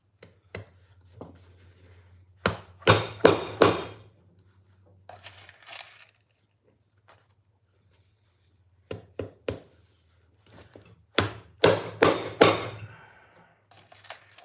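A hammer strikes in two separate bursts of several sharp, close knocks, with quiet gaps and a low steady hum underneath.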